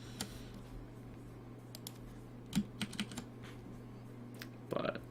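Keys on a computer keyboard being pressed, heard as scattered, quiet clicks and taps at an uneven pace, with a few slightly louder presses and a low steady hum underneath.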